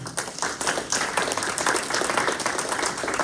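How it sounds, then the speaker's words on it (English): An audience claps for candidates at a city commission forum, a dense, steady round of applause from a room of people that holds for a few seconds with no voices over it. "Can we give them all a round of applause?"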